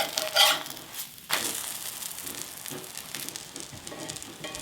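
A sourdough crepe sizzles in a pan just after being flipped, with two sharp bursts of crackle early on that settle into a softer, continuous frying hiss.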